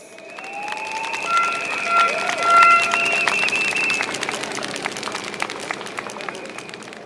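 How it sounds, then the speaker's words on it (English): Applause from an audience at an outdoor political campaign rally in Pasir Ris–Changi, a steady crowd wash with tonal sounds and voices layered on top, lasting throughout at moderate level. "please give a round of applause to Jacqueline Fernandez"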